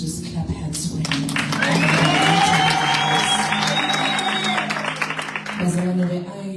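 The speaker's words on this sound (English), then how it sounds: "Can we please just clap hands for him?" Sunday service congregation claps hands for an apostle, a thick crowd wash of clapping and cheering rising and then easing, with sung or shouted voices and a sustained tone over it.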